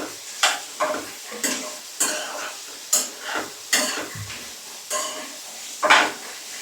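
Onions and beef being sautéed in a pan for a Kerala-style beef curry: a spoon scrapes and stirs in repeated strokes about twice a second over a light sizzle, up close.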